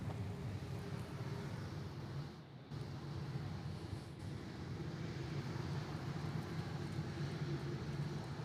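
An airliner taxiing off the runway at Honolulu airport makes a steady distant jet rumble and whine. Wind buffets the microphone throughout, with a brief dip partway through.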